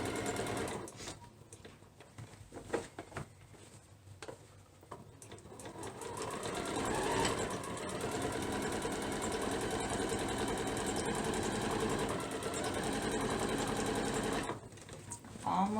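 A sewing machine stitches the handles of a market tote bag. Scattered clicks and brief starts give way to a steady, close mechanical whirr that runs for about eight seconds before stopping.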